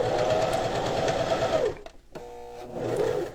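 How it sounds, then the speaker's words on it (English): A Janome Sewist 709 mechanical sewing machine stitches with a loud, steady, close whirring hum. It stops briefly in the middle, then starts up again and keeps running. "I'm sewing off to the side."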